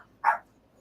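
A small dog indoors lets out a single short, sharp bark or yip, fairly close and clear against a quiet room, with no talk at that moment.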